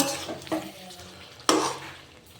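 A curry is sautéed in a home kitchen pan: a soft sizzle runs under two sharp stirring scrapes, one near the start and a louder one midway, with no voices.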